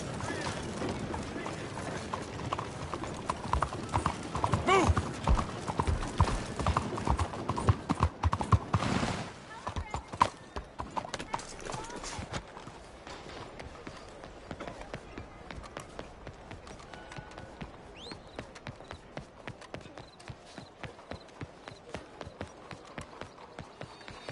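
Horse hooves pound along in Red Dead Redemption 2, a rapid, loud galloping clatter that thins into a steadier, more spaced rhythm of clip-clops, with voices talking over it.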